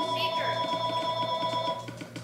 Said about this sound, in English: Oh, come on, a phone call?